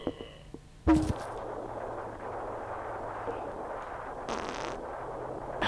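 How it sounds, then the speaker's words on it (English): A cannon fires in the Amazing Frog video game: one sudden loud boom, followed by a sustained roar and rumble that fades into the background. "We should put a cannon on the very edge of the land over there"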